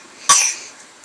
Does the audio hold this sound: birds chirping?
no